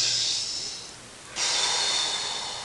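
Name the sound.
deep breathing in through the nose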